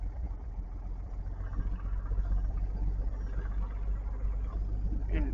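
A Beechcraft Bonanza V-tail plane taxiing, its piston engine a low, steady droning rumble heard from inside the cabin, with a brief louder noise at the end.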